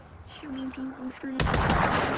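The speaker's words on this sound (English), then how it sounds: "I shot you through the wall." Gunshots in the VR shooter Onward, played in a gun game mode: a quiet stretch with a few short tonal beeps, then a sudden loud burst of rapid fire that continues to the end.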